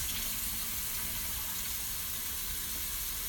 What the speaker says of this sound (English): Hand washing time.